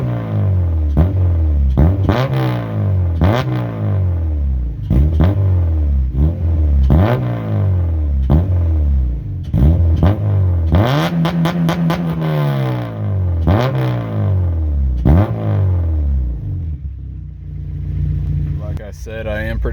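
A homemade budget exhaust on a car, installed for about $80, revs repeatedly in loud, rising and falling engine sweeps close by, roughly every second or two, with a longer sustained rev near the end and no talking.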